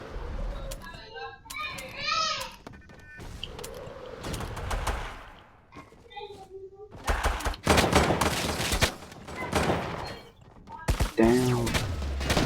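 Pistol and revolver gunfire in a multiplayer shooter match, with excited voices shouting over sharp bursts of shots and clustered impacts, the firing growing denser and louder in the second half.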